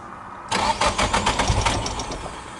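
A car engine fitted with a Z32 MAF sensor cranks and catches after half a second of quiet, then settles into a loud, steady idle close to the microphone.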